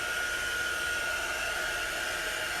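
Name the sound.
blow dryer drying ink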